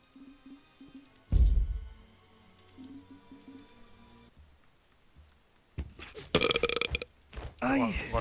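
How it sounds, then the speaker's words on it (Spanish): A single loud gulping hiccup-like burp bursts out after soft clicks, with wet squishy mouth noises and a voice talking over game sounds later on. "Que me ha venido un hipito"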